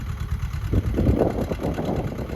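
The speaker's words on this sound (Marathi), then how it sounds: "ट्रॅक्टर चालू आहे" A farm tractor engine runs close by with a low, throbbing idle chug. It grows slightly louder and rougher partway through.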